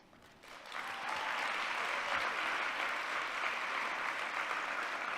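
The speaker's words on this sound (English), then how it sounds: "Thank you for that round of applause for them." Steady, dense applause from the audience at a university competition global final, rising quickly after a quiet start and holding loud and even throughout.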